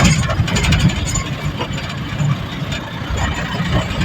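An empty goods vehicle travelling from Alang to Ahmedabad crosses an expressway toll plaza, its engine giving a loud, continuous rumble with road and wind noise and no talk.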